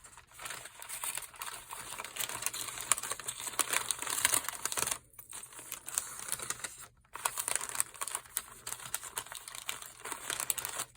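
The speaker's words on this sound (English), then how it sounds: "So I'm just going to wrap this with some brown paper for now." Brown paper crinkles and rustles continuously as a handmade card package is wrapped, with crisp crackling bursts and two brief pauses, close and fairly quiet with no talking.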